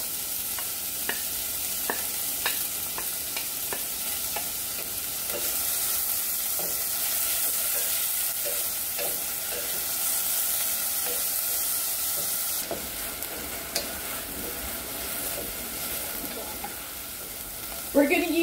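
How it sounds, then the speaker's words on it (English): Chopped onion frying in hot oil for Hoppin' John with black-eyed peas: a steady, close sizzle runs throughout, with light spoon-stirring clicks scattered over it. "we're going to add our onion to the oil"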